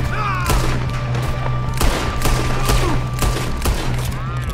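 Rapid volleys of gunfire from the Red Dead Redemption 2 video game during a train robbery, sharp cracking shots bursting close and loud in irregular clusters over a steady low rumble.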